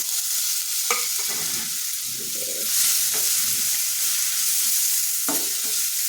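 Chopped onion frying in oil with spices, a steady bright sizzle throughout with several scraping stirs of a utensil against the pan, close up and with no voices.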